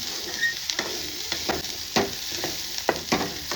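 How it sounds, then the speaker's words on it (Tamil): Onions and fennel fry in a pot for a goat head curry, a steady sizzle broken by repeated scraping stirs of a spoon against the pan at irregular intervals. "அப்படியே வெங்காயம் செவந்து வருது பாருங்க"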